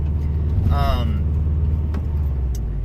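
Cabin of a 2002 Subaru WRX wagon on the move: a steady low engine and road rumble runs throughout, with a brief tonal squeal near the start rising over the drone.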